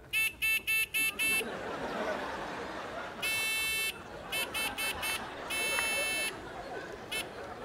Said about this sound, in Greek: Δεν το πατάνε έτσι τον μπάζερ.